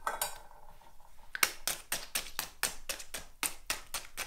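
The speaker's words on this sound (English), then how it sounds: "I'll give this a good mix up" Chicken feed gets mixed in a bowl with a utensil, a quick series of close, crisp taps and scrapes in a steady rhythm, with no talking.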